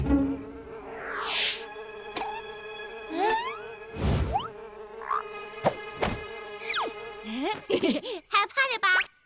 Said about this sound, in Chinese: 今天一定要抓住这些讨厌的蚊子。